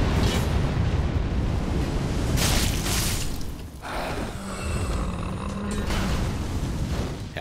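Roaring bursts of fire erupt in Dark Souls 3 in the Irithyll of the Boreal Valley area, loud, broadband whooshes that swell and fade repeatedly over a dense game soundscape.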